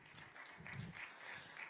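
At a youth conference, an audience gives a speaker a round of applause: faint, even clapping that washes along steadily at a distance with no talk over it.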